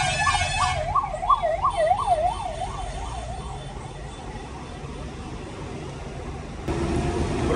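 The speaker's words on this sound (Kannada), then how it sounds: "ಏನೋ ಗೊತ್ತಿಲ್ಲ, ಎಲ್ಲಿ ನೋಡಿ ಆಂಬುಲೆನ್ಸ್ ಗುರು ಇವತ್ತು." An ambulance siren wails on a highway service road, a clear rising-and-falling tone that fades as it passes and gives way to steady road noise.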